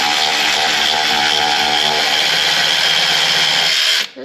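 Power tool spinning a half-inch socket to remove a battery holder bolt on a CFMoto ZForce 800EX, a loud steady whir running continuously for about four seconds before cutting off.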